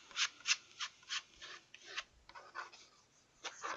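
The edge of a credit card scrapes acrylic paint across a canvas in short, repeated strokes, a close, faint, dry rasping rhythm with no talk over it.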